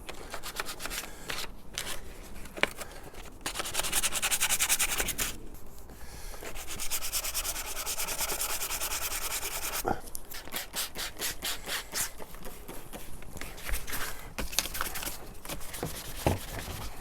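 Filler on a Mini John Cooper Works F56 car bumper is scuffed by hand sanding, with close, dry rubbing strokes in bursts, some long and steady, others quick and rhythmic, with brief pauses between.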